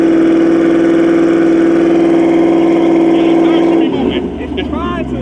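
A Dodge Scat Pack's engine holds a loud sustained rev under launch control as the car tries to burn out, then the roar drops away while voices talk.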